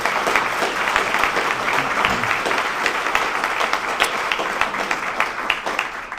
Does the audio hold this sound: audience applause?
yes